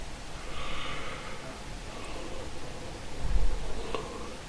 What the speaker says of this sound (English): gonna yawn again.